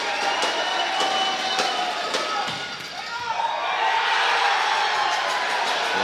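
Home crowd at an NAIA men's volleyball championship semifinal roaring in a gym, loud sustained cheering that dips briefly then swells again, with ball contacts and thuds punctuating the din.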